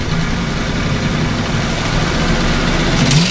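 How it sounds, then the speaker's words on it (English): Car engine with new plugs and wires, roughly 2,000 RPM with the throttle about to be floored, holds a steady loud low drone with a slight rise near the end; no voices. "you hear that rev and die, rev and die? That was with the punch to the floor"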